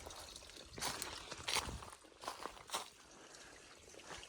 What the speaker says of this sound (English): Nice little piped spring.